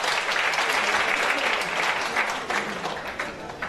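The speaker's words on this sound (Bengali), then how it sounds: "তাদের জন্য একটা জোরে করতালি হয়ে যায়" Audience at a university fashion show, a crowd clapping loudly and continuously, a dense close applause that holds steady before easing slightly at the end.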